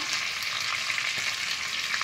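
A brief burst of dense, close sizzling and crackling as whole cumin, bay leaves and dried red chillies hit hot oil.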